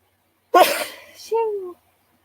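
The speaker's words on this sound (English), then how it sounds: "I feel a sneeze coming on." A single close sneeze from a person mid-stretch: a sharp, breathy burst followed at once by a short voiced exhale, alone with no other sound.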